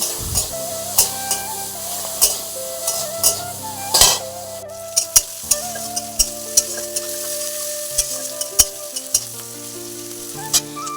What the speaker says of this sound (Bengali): এবার কড়াইতে ভালো করে পেঁয়াজটা দিয়ে দিচ্ছি পেঁয়াজটা ভাজার পরে